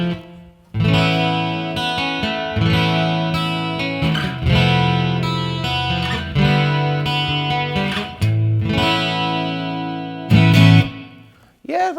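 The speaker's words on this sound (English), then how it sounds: "Let's stick some reverb in." Distorted electric guitar through a Line 6 POD amp modeler with reverb added, strummed chords and sustained notes ringing with lingering tails, loud and close, several phrases separated by brief pauses.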